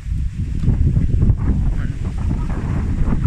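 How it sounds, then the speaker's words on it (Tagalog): Strong wind roars and buffets the microphone in a steady, low rumble for the whole stretch, with no voices. "Ang lakas ng hangin"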